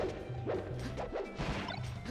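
Sharp slashing impacts from Marth's forward smash in Super Smash Bros. Melee, a tournament match against Fox, land as a couple of crashing hits over steady game music and crowd noise.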